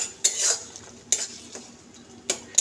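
A thick doi kochu paste of yogurt and green chili is stirred and fried in a pan, with a few distinct scraping clinks of a utensil against metal over a faint, low sizzle.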